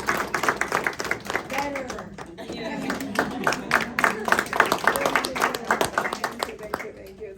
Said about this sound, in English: Let's clap for this wonderful people.